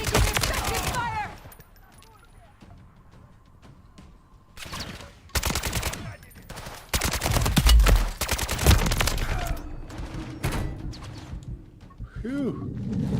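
Video game gunfire crackles in sharp bursts and rapid automatic strings, loud and close, with quieter gaps between volleys and a voice speaking briefly in between.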